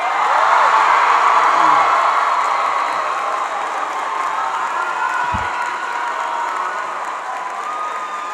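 A school audience applauding loudly to congratulate someone, dense clapping with cheers and whoops from the crowd, strongest at the start and easing slightly while staying full throughout.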